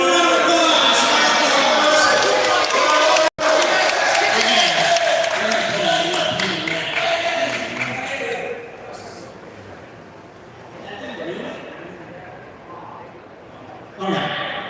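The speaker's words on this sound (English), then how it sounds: "Give me a round of applause." Audience at a Lego convention claps and cheers in a loud, sustained burst that fades after several seconds into scattered clapping and murmur.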